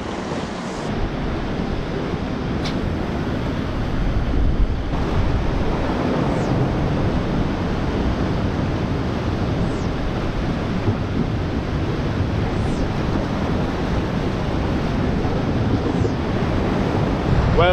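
Sea waves wash continuously against a rocky UK shore as the tide rises, a steady roar of surf mixed with gusty wind buffeting the microphone throughout.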